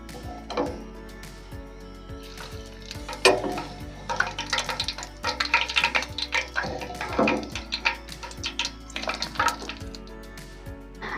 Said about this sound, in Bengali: একটা ছাঁকনির উপরে তেল সমেত বুন্দিগুলো দেব